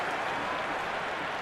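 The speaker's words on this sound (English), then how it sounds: "It's evident and ever so audible that the crowd is at near bursting point at today's play." A video game cricket crowd from Cricket 26 roars and applauds in a steady, dense wash of clapping and cheering, loud and continuous throughout.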